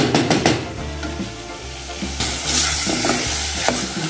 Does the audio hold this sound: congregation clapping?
no